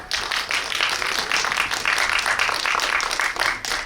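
A small audience at a film screening talk in a cinema claps warmly, the individual claps distinct and rhythmic, fairly close and steady for a few seconds.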